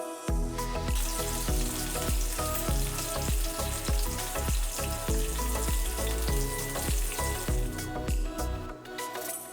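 Chopped onion hits hot oil with cardamom, cloves and star anise for restaurant-style butter chicken, a loud, sustained sizzle running under a rhythmic musical beat.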